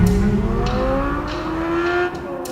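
Close, loud engine of a 2023 Chevrolet Corvette Z06 pulling hard, its pitch climbing steadily through a sustained acceleration run, alone without voices.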